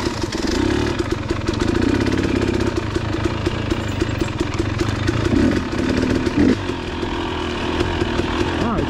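A KTM 300 XC two-stroke dirt bike being ridden, its engine buzzing steadily and close with a raspy, chainsaw-like drone that rises and falls slightly with throttle.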